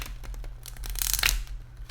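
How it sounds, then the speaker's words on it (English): Tarot cards are shuffled in a short burst of papery riffling and rubbing, close and fairly loud, with no voice over it. "I will leave all the shuffling and throwing of the cards in"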